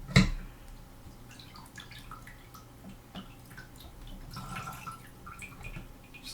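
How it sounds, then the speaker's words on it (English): Water poured out of a plastic toy doll tube from a Magic Mixies Pixling set, a faint trickle with scattered drips, a brief louder splash at the start, then soft gurgling and dripping throughout. "Just kind of pour some of that water out."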